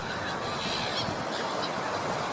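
Gulls resting on a park lake, calling in a steady dense chorus of harsh honking cries over constant background noise, no clear single voice standing out.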